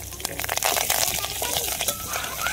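Garlic and freshly washed curry leaves hit hot oil in a pan for a seasoning tempering, giving a loud, bright, continuous sizzle and crackle close up, with no voice over it.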